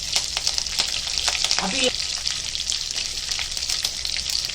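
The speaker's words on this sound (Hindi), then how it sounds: "अभी हम करी पत्ता डालेंगे, छाछ को बघार दे रहे।" Steady, dense sizzling of curry leaves frying in hot oil to temper buttermilk, crackling continuously throughout at a close, moderate level.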